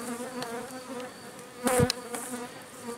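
A steady, close hum of many honey bees buzzing at a hive frame, with a louder burst as one passes near, no talking.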